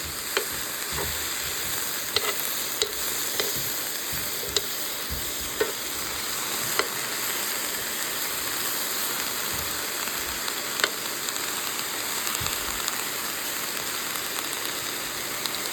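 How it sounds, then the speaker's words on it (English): Mushrooms and vegetables sautéing in a skillet with little or no oil, a steady close sizzle with occasional sharp clicks of stirring, continuous and without talk. "So let me start sauteing these ingredients in the skillet."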